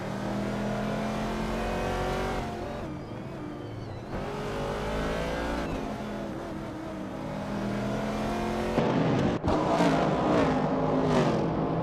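A 1970 Dodge Challenger and other race cars in a racing video game roar continuously, engines revving and shifting through gears, with one sharp burst of acceleration near the end and no talking.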